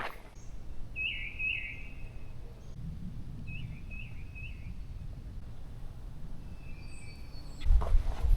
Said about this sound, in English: you can tell the birds are really happy for the weather